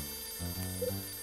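A short electronic ring tone sounds in the Nintendo DS game Last Window, a few tonal beeps over quiet background game music.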